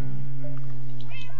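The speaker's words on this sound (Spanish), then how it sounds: "Y los gatos no me dejan dormir." A cat meows in a video game: one drawn-out, wavering meow over a steady low hum, close and fairly loud, with no talking.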